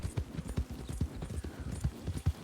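Horse hooves clip-clop at an even walking rhythm in Red Dead Redemption 2, a soft, fairly close series of thuds with no other sound on top.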